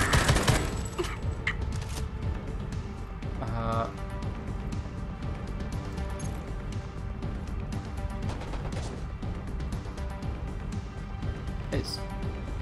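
Gunshots in the video game Homefront: The Revolution, a burst of sharp cracks at the start followed by scattered shots and a short rapid volley, all under a busy, dense game background.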